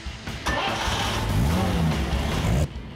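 A car at a pawn shop being started for a test drive: a short starter crank catches into a loud engine that rises in a rev, settles to idle, then cuts off abruptly, with a voice briefly at the start.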